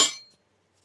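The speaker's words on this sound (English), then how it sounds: "I recommend this hammer for solar because it's made out of metal, and you can hear it and you can feel it way better than any regular hammer" A single short metallic clink from an all-metal demolition hammer being handled on a construction site, close and crisp, ringing out briefly before silence.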